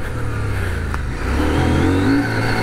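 A CF Moto 800MT touring motorcycle's engine revs loudly and steadily on an off-road adventure ride, its droning tone climbing slightly as it accelerates, with wind rush over the top.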